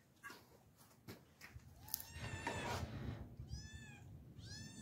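Faint shuffling and rustling in a quiet room lead into two clear, high cat meows near the end, soft and fairly close.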